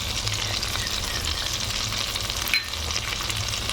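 Prawn masala sizzling in a pan after garam masala and green chilli go in, a steady close frying hiss with a brief clink partway through.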